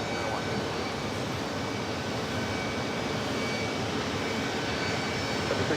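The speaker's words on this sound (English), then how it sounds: "That's JetBlue 1346 coming in from Port of Spain on an A320" A JetBlue Airbus A320 arriving at New York JFK from Port of Spain gives off a steady, distant broadband jet roar with no distinct events, faint and alone without voices.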